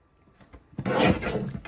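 A paper trimmer slices a sheet of patterned craft paper for a page kit in one short, close rasping stroke lasting under a second, preceded by faint light handling noises.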